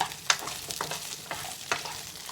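About twenty small onions and garlic sauté in a pan for a Kongu-style village fish curry, giving a steady close sizzle broken by sharp scraping stirs.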